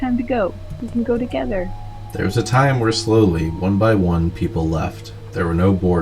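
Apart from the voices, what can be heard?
No distinct noise like a dog, phone or traffic.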